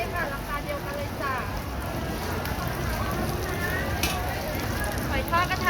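Thai fried oyster omelette sizzling in a small hot pan over leaping flames at a street food stall, a steady loud crackling fry running throughout, with a voice calling out faintly beneath.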